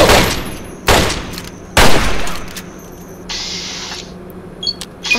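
Gunfire in the Fallout 3 video game: three loud, sharp shots spaced about a second apart, each with a decaying tail, followed by quieter mechanical clicks and a brief hiss.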